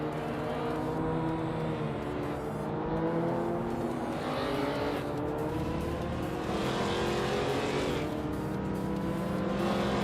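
Race car engines whine and rise in pitch through gear changes in a racing video game, with several cars roaring close together in a continuous, loud pack and no talking.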